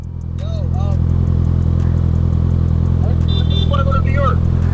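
Brand-new Kawasaki ZX6R sport bike with its exhaust removed, riding along with a loud, steady engine drone and deep rumble throughout, while a person talks briefly over the noise.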